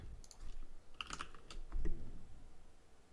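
Keys tapped on a computer keyboard while entering a file name in Windows, a brief, quiet burst of clicks in the first half followed by a couple of isolated taps, no speech.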